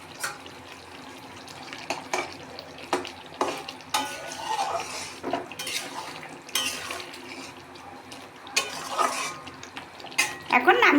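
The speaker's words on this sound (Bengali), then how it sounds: "নামানোর আগে দিয়ে দেবো সামান্য একটু গরম মশলা গুঁড়ো, দিয়ে ভালো করে নেড়ে নিয়ে নামিয়ে নেব" Pangas fish curry in a pan being stirred after garam masala powder is added, with scraping spoon strokes, clinks against the pan and a soft sizzle, close up and intermittent.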